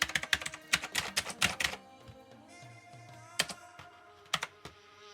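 Keystrokes on a Rymek KnewKey retro mechanical keyboard with blue keys: a fast burst of sharp clicky presses, then a few isolated clacks over a faint steady tone, close and clear.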